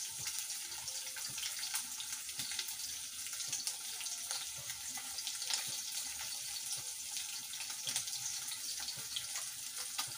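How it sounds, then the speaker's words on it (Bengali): Snakehead fish frying in hot oil in a wok, a steady close sizzle and crackle that runs unbroken throughout with no voices. "তেলটা গরম হতে শোল মাছগুলোকে ভেজে নিচ্ছি।"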